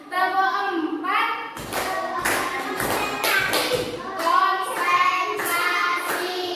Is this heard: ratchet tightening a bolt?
no